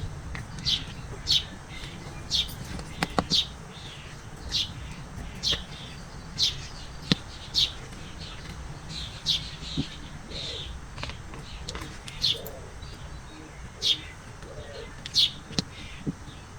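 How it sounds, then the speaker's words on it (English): Birds in a garden with trees chirp and tweet at moderate distance, short bright calls recurring every second or so over a low background hum, with no talk. "As you can hear, we've got quite a lot of birds in my garden."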